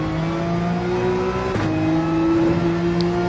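A race car engine in Gran Turismo 7, racing Dragon Trail in the Manufacturers Cup, drones loud and steady, with a brief dip and surge in revs midway. No voices are heard.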